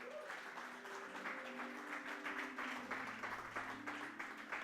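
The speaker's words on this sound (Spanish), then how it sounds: "Gracias, mis hermanos. Un aplauso." Church congregation applauding together in a worship service, a steady wash of many hands clapping from nearby with a low organ or keyboard chord sustained underneath, no voices on top.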